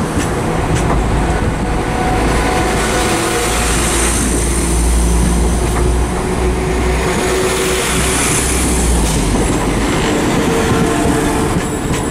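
A West Midlands Railway Class 172 diesel multiple unit at Birmingham Snow Hill station, heard as a steady, fairly loud rumble of engine and wheels with rail clatter running throughout.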